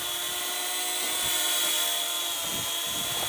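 A small JJRC H37 Elfie foldable quadcopter drone hovers in to auto-land, its propellers giving a continuous, close, high-pitched buzzing whine that holds steady throughout.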